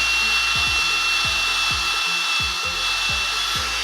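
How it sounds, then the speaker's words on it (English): A hand-held power tool buffing scuffed motorcycle wheels for a CBR300R with white diamond compound, a steady high whine with repeated low rubbing thumps in an uneven rhythm, close and continuous. "So I did some repairs and now I'm just buffing them out."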